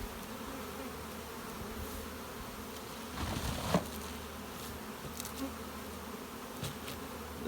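A honey bee colony hums at its hive, a steady, soft, close buzzing with a few individual bees passing louder near the listener, and no voices.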